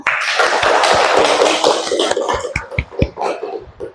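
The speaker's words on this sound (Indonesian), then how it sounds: "Untuk teman-teman bisa berikan aplaus untuk Mas Riki" Classroom applause for a student, a dense burst of clapping from a group that thins into scattered individual claps toward the end.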